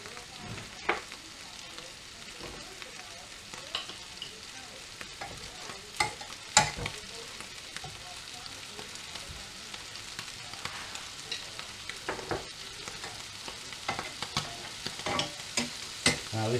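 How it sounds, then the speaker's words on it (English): A big knob of butter sizzling in a frying pan before a peppered steak goes in, a soft steady crackle with scattered sharp pops and spits throughout, close and fairly quiet. "big knob of butter in the pan"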